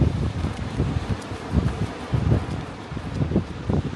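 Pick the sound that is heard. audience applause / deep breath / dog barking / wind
wind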